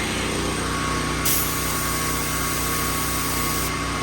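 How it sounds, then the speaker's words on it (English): An air compressor runs steadily off a DuroMax XP13000HXT generator, a constant mechanical drone with a pulsing low hum and a brief hiss burst partway through, with no talking. "Maybe I don't have the air compressor on."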